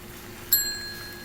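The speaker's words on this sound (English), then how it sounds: "hearing the ding from the front of the diner." A single bright bell ding at the front of a diner rings out once, clear and metallic, its tone lingering and fading over a quiet room hum.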